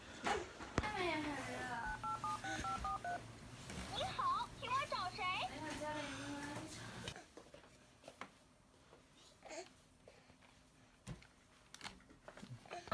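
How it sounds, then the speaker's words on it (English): A child's toy phone plays a run of stepped electronic button tones and beeps, then falls quiet, followed by soft clicks and scattered taps with faint voices in the background. "Not a real phone, of course, like a kiddie's phone."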